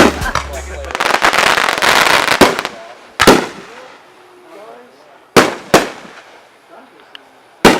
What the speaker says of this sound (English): There we go with the fireworks.